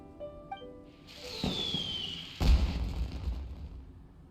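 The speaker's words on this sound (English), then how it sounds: "Did you hear that explosion? Maybe it was fireworks." A loud booming video game explosion bursts in over a sustained whoosh, with a whistling swoop before it and a rumbling tail afterward.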